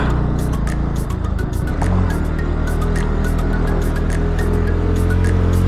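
Motorbike climbing a steep hill road in second gear at Bolumalai hill near Krishnagiri, a steady loud engine drone with low rumble and wind buffeting, rising slightly in pitch after the first couple of seconds.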